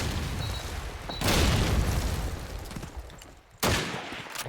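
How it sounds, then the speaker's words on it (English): Grenades land and explode on a rooftop in Call of Duty 2, two sharp loud blasts a couple of seconds apart, each followed by a rumbling decay amid background gunfire. "Nades are landing on the top of square roof there."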